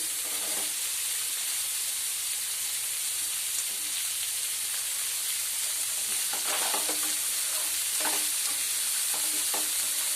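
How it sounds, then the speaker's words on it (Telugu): Drumstick (moringa) leaves and onions fry in a pan for a munaga curry, giving a steady, loud sizzle with a few scraping stirs throughout, no voices. "రెండు కలిపి కాసేపు బాగా వేగాలి"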